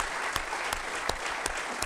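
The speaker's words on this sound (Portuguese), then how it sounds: "Mais uma vez queria agradecer e pedir uma salva de palmas para a Flávia" Applause from a congregation at a monthly gratitude service of a Messianic church in Vila da Penha, Rio de Janeiro: steady, dense clapping from many hands, sustained throughout at a moderate distance.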